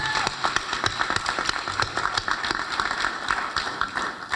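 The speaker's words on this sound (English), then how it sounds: "Let's give them another round of applause." Audience applause for the Vesper Choir at a 2016 youth motivational assembly, a steady patter of many hands clapping with no voices over it.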